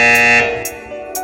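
A quiz show buzzer gives one loud, steady electronic blare that holds for about half a second and then fades. It is close and fills the clip alone, with no talk.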